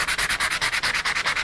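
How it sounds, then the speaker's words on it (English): Light sandpaper strokes lightly sanding dried relief paste on paper, rubbing steadily back and forth, about fifteen quick even passes in a regular rhythm, close and clear with no talking. "we're going to sand this with sandpaper"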